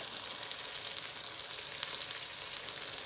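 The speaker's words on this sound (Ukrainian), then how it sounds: "Трошечки олії додамо, додамо ще водички." Oil and water go into a hot frying pan, producing a loud, continuous, close hissing sizzle with faint crackles and no speech.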